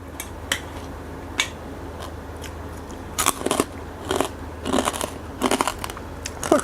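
Crispy pork crackling being bitten and chewed, with crunchy bursts scattered over a steady low background hum. The crunches are close and moderately loud, growing denser toward the end, and no voice is heard.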